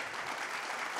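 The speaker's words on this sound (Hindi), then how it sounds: "बिल्कुल एक बार ताली तो अर्जुना अवार्ड के लिए बनती है" Audience clapping at a business summit in honour of cricketer Mohammed Shami's Arjuna Award, a steady dense wash of hands from a large crowd with no voices over it.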